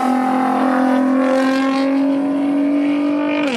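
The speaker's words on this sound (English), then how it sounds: "Oh, we got a bog there offline." A 1500-horsepower Nissan GT-R drag car bogs at launch on the drag strip, its engine holding a loud, steady droning note that slowly climbs in pitch before dropping off at the end.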